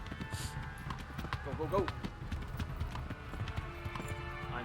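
Horse hooves gallop in a steady clip-clop rhythm in the medieval role-playing game Kingdom Come: Deliverance, running underneath a man's excited, urgent speech throughout.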